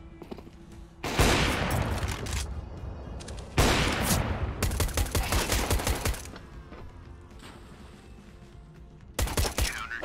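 Counter-Strike gunfire erupts in dense rapid bursts, loud automatic fire in several volleys separated by quieter gaps, with brief voices in the mix.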